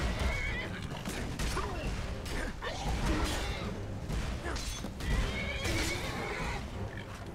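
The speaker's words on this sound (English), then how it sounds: "Oh, it's that Daedric horse." Daedric horse in the video game Skyrim, giving loud, close neighs and whinnies over clip-clopping hooves and game noise, with no talk.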